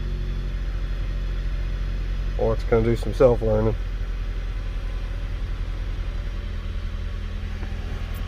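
A 2008 Jeep Compass 2.4L engine idles a little high after throttle body replacement, a steady low hum and rumble that continues unchanged under a brief stretch of talk.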